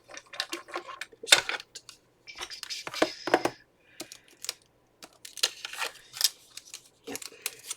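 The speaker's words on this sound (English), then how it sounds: "I decided to do the die cutting on camera." Die-cutting stencil paper for handmade cards: scattered crisp cutting, scraping and crinkling of paper with short clicks, irregular and close, with quiet pauses between bursts.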